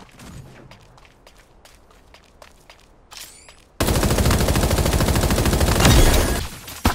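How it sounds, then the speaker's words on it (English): Quiet scattered clicks and footsteps, then a sudden burst of sustained rapid automatic gunfire, loud and dense, fading near the end. "I hear gunfire."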